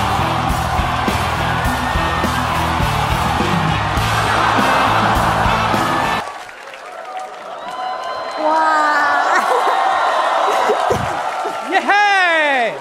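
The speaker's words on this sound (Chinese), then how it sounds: "我们掌声欢迎神秘嘉宾" A studio audience greets a surprise guest on a Taiwanese variety show with loud, continuous applause and cheering for about six seconds, then the noise drops and scattered whoops and excited voices follow.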